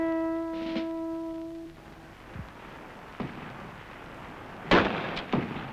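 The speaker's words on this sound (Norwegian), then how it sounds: "Kanonene og geværene spiller opp." Cannons and rifles fire in a historical setting, several sharp blasts and cracks spaced out after a fading sustained tone, the last bursts loudest and closest.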